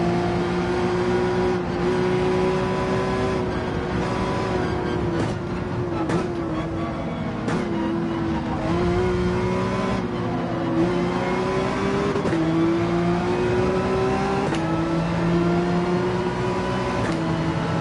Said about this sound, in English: Look at those Ferraris taking off.